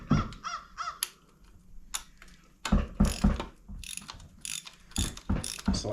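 Ratchet wrench clicking in short rapid bursts while a bolt is tightened on a 2009 Impala wheel bearing, close and fairly loud, with pauses between runs.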